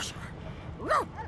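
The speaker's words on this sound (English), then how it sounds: "The dog whines and continues pawing at its nose." A dog in Divinity: Original Sin 2 lets out a short, rising and falling whine, near and fairly clear, heard under a speaking voice.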